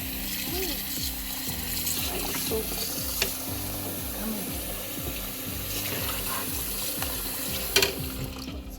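A kitchen tap runs cold water into a cooking pot with a steady splashing rush, accompanied by regular low rhythmic thumping and a few clinks, fairly close.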